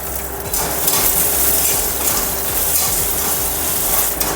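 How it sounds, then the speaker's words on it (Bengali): Rice grains fry in a wok and are stirred steadily, producing a dense, rapid rattling scrape over a constant hiss, loud and close throughout with no voices. "এই চাউলটাকে আমি ভেজে নিচ্ছি।"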